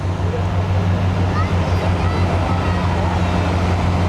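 A Farmall tractor engine runs revved up in low gear at a festival, a loud, steady low rumble that fills the whole stretch without a break.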